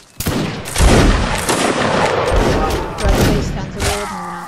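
Infantry musket volley in a video game, heard as a loud, ragged burst of overlapping gunshots followed by rolling booming echoes and lingering crackle, with voices talking underneath.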